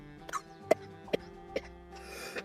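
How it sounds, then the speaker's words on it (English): A handful of short, dry coughs from a person recovering from illness, four separate bursts spaced evenly over a couple of seconds, close and fairly quiet. "What timing on that cough?"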